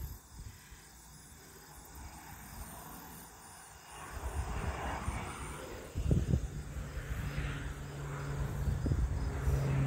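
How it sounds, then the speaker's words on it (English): An airplane flying overhead a cemetery, a low broadband rumble that swells gradually from faint to moderately loud, with faint insects chirping in the background. "There's your plane."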